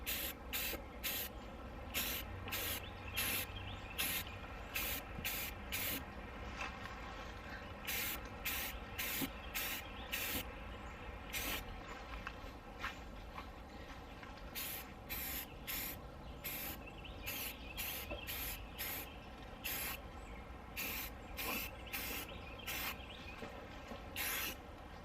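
Repeated short bursts of aerosol spray paint, hissing in quick pulses with brief pauses, close to the microphone over a steady background hum, while painting mobile home speaker and fan covers.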